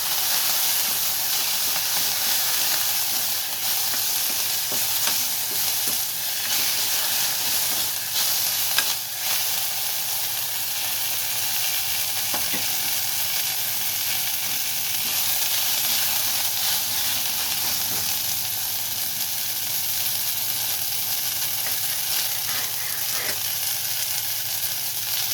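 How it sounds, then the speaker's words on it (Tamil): Garlic and mudakathan leaves sauté in a spoonful of oil, a steady close sizzle and hiss with faint stirring scrapes running unbroken throughout, no voices. "லேசாக ஒரு ஸ்பூன் எண்ணெய் விட்டுட்டு இதெல்லாம் வதக்கிக்கோங்க"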